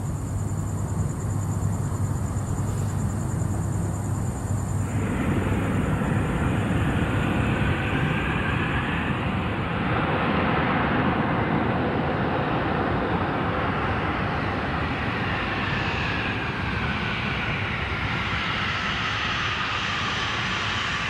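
Loud, continuous roar of a small airplane engine during a night landing, with a rushing broadband rumble that shifts in pitch partway through, heard from inside the cabin.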